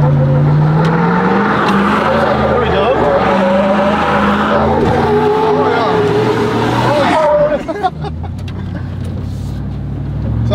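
A Chevrolet Z71 pickup truck engine roars as tires with a limited-slip differential squeal and chirp, repeatedly grabbing and slipping on the surface, loud and close, with people talking over it.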